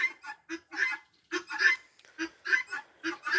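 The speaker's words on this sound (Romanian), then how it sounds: "Bibilicile" Guinea fowl on a Romanian farmyard give a run of harsh, repeated squawking calls in quick bursts, close and loud with no talking.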